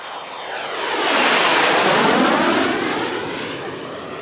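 Aerobatic team solo jet flying a display routine at an Italian Air Force airshow, a loud broadband roar swelling as the aircraft passes close overhead, peaking mid-pass and then easing slightly, with no talk.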